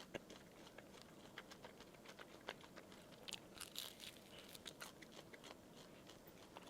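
Crispy-crusted, chewy bread being bitten and chewed close up, a series of quiet crunches and crackles with a soft, steady background hum and no talking.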